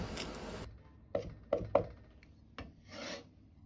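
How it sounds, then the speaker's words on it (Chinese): Knife chopping scallions or green garlic shoots on a board: a noisy rasping start, then a few separate sharp chops and a softer scraping pass, close and fairly loud, with no talking. "再來準備小蔥或者是青蒜苗，稍微多一點，清洗乾淨後也是改刀切碎"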